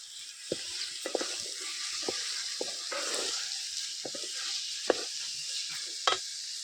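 Minced prawns dropped into hot, sizzling masala in a pan for a Malvani-style curry, a steady close frying hiss broken by scattered spoon knocks and scrapes.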